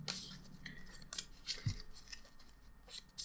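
A card is shuffled into a Marvel Champions deck by hand, making soft, continuous papery rubbing and riffling noises with a few sharper flicks. The sound is close and has no talk over it.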